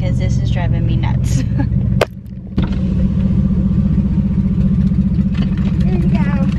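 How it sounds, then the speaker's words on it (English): A loud car engine idles with a steady low rumble throughout, close by, briefly cut off for about half a second before resuming, with a voice talking over parts of it. "That is my car. That is how loud it's acting right now."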